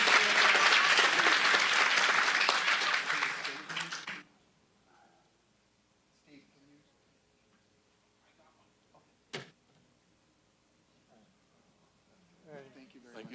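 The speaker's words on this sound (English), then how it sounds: "Let's give him another round of applause." A burst of applause from a county supervisors' meeting crowd fills the first four seconds, then fades into a quiet room with a few scattered taps and small noises.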